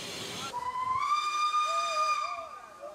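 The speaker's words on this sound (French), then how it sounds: "Seul inconvénient de ce train, il faut s'arrêter tous les 30 km pour remettre de l'eau, indispensable au système à vapeur qui fait tout son charme." Steam locomotive whistle on a Douro valley train in Portugal sounds one sustained, bright tonal blast with a hissy onset, close and loud, sliding slightly in pitch before fading.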